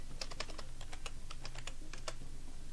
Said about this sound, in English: At least it was a physical keyboard, because virtual keyboards are terrible.